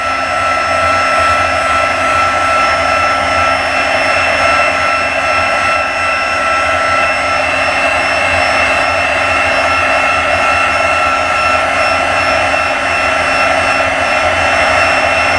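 A heat gun melting embossing powder, giving a loud, steady, close whooshing blower roar with a constant whine that does not change throughout, and no talking.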